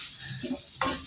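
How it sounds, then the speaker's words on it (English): Potato pieces sizzle in a hot oiled pan while a spoon stirs them, a steady frying hiss broken by a few close scraping strokes. "let them sizzling up and just wait for at least 2 minutes"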